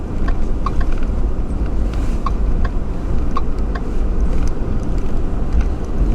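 A car drives steadily along a rural road past farmland for sale on Prince Edward Island, its low, continuous road and engine rumble filling the whole stretch with faint ticking clicks scattered above.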